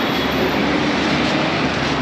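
A train at a railway station in New Delhi gives a steady, dense rumble of rolling stock, close and continuous for about two seconds, with no voices.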